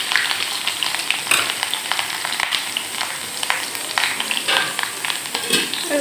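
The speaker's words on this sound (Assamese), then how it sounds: "কেৰাহীখনত তেল দিলোঁ, তেলখিনি গৰম হ'ল আৰু ইয়াতে মই দি দিছোঁ পিঁয়াজ" Sliced onions sizzle in hot oil in a kadai, a constant crackling hiss with scattered sharp pops and spits throughout.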